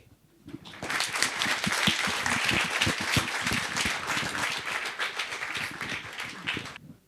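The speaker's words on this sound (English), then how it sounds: "let's give him a big round of applause once again" An audience at a lecture on Chanakya breaks into sustained applause after the talk, a dense wash of many hands clapping for about six seconds before it fades and stops abruptly.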